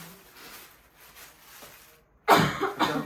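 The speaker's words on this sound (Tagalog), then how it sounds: "Inuubo na naman kami." After a quiet stretch, a person coughs sharply a couple of times, close by and loud.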